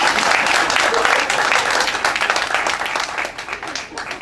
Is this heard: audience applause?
yes